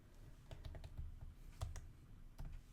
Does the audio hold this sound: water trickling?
no